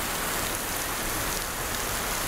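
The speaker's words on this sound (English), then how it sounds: "I think it's red rain, means it's really hard rain." Hard, heavy rain falling on a surface on a rainy day, a dense, continuous hiss with no breaks and no voices.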